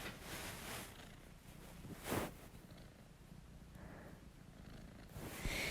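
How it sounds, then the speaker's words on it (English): A female cat named Tiger purring softly up close, a low continuous rumble with faint breathy pulses and a brief louder rustle midway, quiet throughout. "She's purring"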